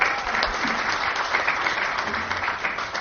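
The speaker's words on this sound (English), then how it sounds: "Let's give him a round of applause." Steady, dense audience applause at an academic lecture on Goan studies, a continuous crowd of clapping hands at even volume with no talking.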